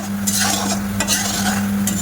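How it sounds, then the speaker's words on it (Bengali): Sugar syrup with cardamom bubbles on the stove, a busy, steady fizzing simmer with faint stirring clicks, heard close and alone. "তো দেখো চিনিটা ফুটে গেছে,"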